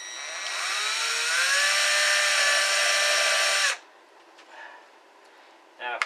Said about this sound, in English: Let the drill do it and hold that plate snug.